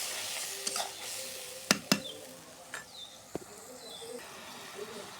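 Spice masala with ground coriander frying in a pan as it is stirred, a soft low sizzle broken by a few sharp clinks and scrapes of the spoon against the pan, with a voice briefly audible.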